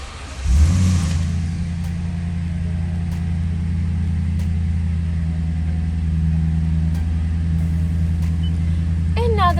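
A 2015 Toyota Tundra SR5 with automatic transmission starts with a brief surge, then settles into a steady, loud, low idle hum that holds evenly for several seconds.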